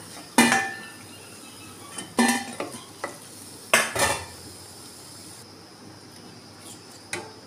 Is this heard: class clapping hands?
no